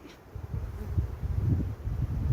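A low, steady buzzing of aggressive honeybees at a hive hums close by, swelling and fading slightly, with faint rustling in the background.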